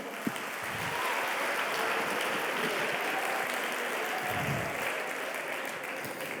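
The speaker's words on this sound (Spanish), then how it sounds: "Denle un aplauso al Señor por eso" A church congregation applauds during a sermon, a dense, even roar of clapping that holds steady from start to finish.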